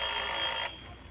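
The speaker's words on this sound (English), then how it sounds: "I'd ring him up on my phone and tell him like this." An old-style telephone bell rings in a continuous bright trill for about half a second, then cuts off, leaving a faint background.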